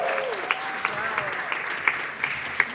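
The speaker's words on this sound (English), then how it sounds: "I want to say a round of applause for Casapreco." An audience at a YouTubers' meetup claps in a short, modest round, with a few sharper individual claps standing out above a soft room murmur.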